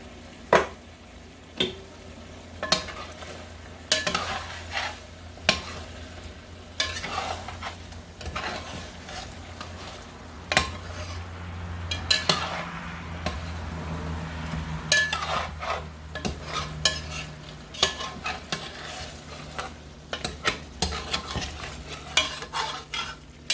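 A spoon stirs tomato sauce into Cajun-style chicken red gravy in a pot, giving repeated close clinks and scrapes against the metal over a soft simmering sizzle, with no talking.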